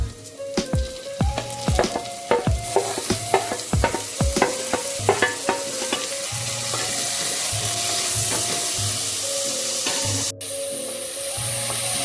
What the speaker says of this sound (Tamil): தக்காளி நல்லா சாஃப்டா குக் ஆகிற வரையும் வதக்கிக்கலாம்